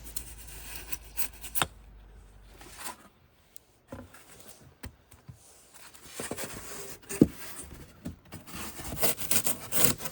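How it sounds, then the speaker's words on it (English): A pencil or scribe scratches around a window insert, giving soft intermittent scraping strokes with short rubbing bursts and pauses, quiet and close. "Here I scribe around the insert just enough to be able to come back with my square."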